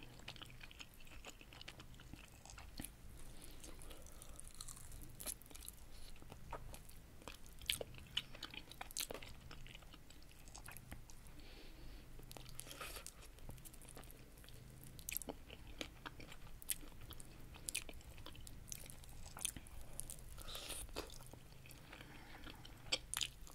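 Crunchy fried chicken wings and fries chewed close to the microphone, a steady stream of crisp bites and wet crunching across the whole clip with no talking.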